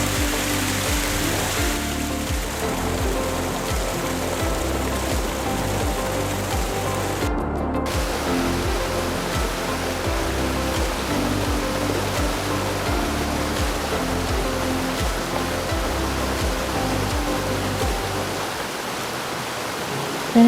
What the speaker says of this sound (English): You can hear the falls from a distance.